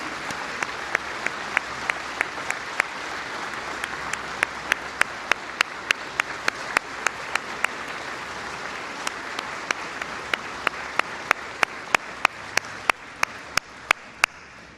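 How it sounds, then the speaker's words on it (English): A crowd applauds men and women serving in law enforcement at a White House event with the vice president, steady moderate clapping throughout with sharp, regular camera-shutter clicks punctuating it. "Would you join me in just giving a round of applause to the men and women serving in law enforcement at every level"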